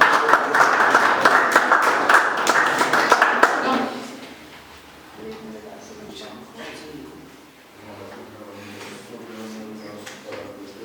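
A conference audience claps loudly for a speaker for several seconds, then the applause breaks off and a voice carries on talking over a quieter room.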